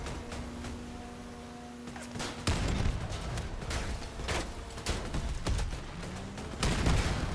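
Cannon fire in the vehicle combat game Crossout booms out in several loud, irregular blasts, each with a rumbling tail, over engine and battle noise.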